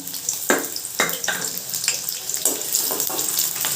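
A small chopped onion sizzles in hot cooking oil in a pan, a close, continuous hiss and crackle broken by several sharp bursts as pieces are stirred or hit the oil, with no talking.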